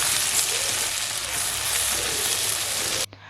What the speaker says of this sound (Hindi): अदरक लहसुन का पेस्ट शामिल करके थोड़ा सा फ्राई कर लेंगे।